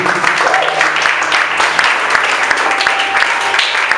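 A church congregation applauds in a loud, continuous wash of clapping with some voices mixed in, sustained evenly throughout.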